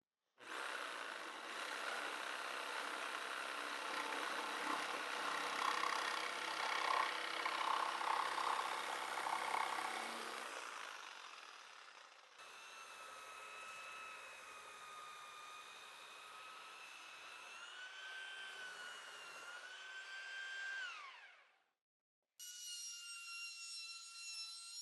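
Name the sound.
jigsaw cutting a curve in wood, then belt sander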